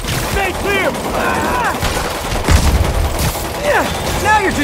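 Gunfire from Marvel's Spider-Man crackles in a dense, chaotic firefight, with shouted voices and pitched calls layered over sustained shooting and a heavier thump midway.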